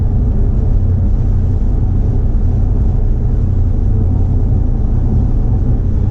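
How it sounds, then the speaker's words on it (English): A turbocharged LS-powered Chevrolet C10 pulling hard in second gear on an interstate, a loud, constant low engine drone with road rumble heard from inside the cab, with no talking. "do some second gear pulls on the interstate"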